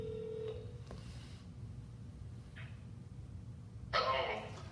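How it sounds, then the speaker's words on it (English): Telephone placing a call: a steady dial tone cut off, a brief dialing blip, then a loud electronic ring burst near the end, all over a constant low hum. "Let me see if I can make a phone call."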